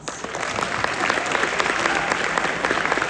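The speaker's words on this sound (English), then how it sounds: "Give yourselves a round of applause." A theater audience at a film event applauds warmly, dense steady clapping filling the room from start to finish at an even loudness.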